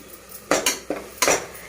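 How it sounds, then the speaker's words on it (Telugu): Biryani masala with coriander powder frying in a pan, three or four sharp scraping clinks of a spoon against the metal pan over a faint background, close and loud, no talking. "బాగా వేయించుకుందాం."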